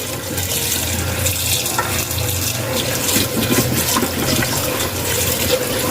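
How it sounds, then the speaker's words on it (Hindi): Tap water running steadily into a vessel as fresh spinach is washed for an egg and spinach dish, a loud, continuous splashing gush that stays constant throughout with no speech. "खुले पानी में हम पालक को धोएंगे।"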